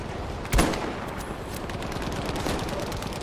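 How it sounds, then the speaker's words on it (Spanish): Gunfire in the video game Battlefield 5, a sharp shot early on followed by a steady crackle of distant battlefield shooting. "Están disparando de aquel lado"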